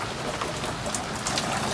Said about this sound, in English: It's raining pretty good. And if you know that sound,